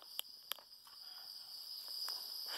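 A steady, high-pitched trill of crickets chirping continuously indoors, fairly faint, with a few soft clicks near the start.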